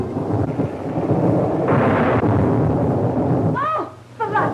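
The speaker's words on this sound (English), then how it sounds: "It's a storm." Thunder rolls loud and near through a storm, a sustained rumbling roar for several seconds that fades out near the end as a voice speaks briefly.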